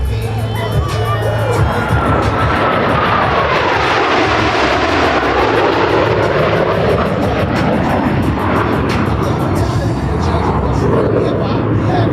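U.S. Navy Blue Angels jets roar past at an air show, a loud sweeping jet rush that rises and falls over several seconds while a crowd murmurs and an announcer talks throughout.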